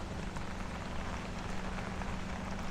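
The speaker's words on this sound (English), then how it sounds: "since the rain has kind of gotten light right now" Light rain falls steadily on the street during a thunderstorm walk in Bay Ridge, Brooklyn, making an even, close hiss with no talk.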